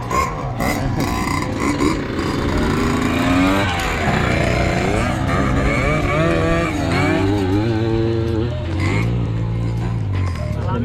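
A motorcycle engine roars close by on a wet, rainy trail in Aguilar, Pangasinan, its revs rising and falling as it passes, loud and continuous with people talking over it.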